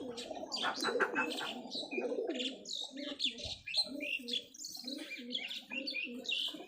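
Local Rajshahi Giribaj high-flyer pigeons coo in repeated soft, rolling phrases close by, mixed with scattered higher chirps from other birds throughout.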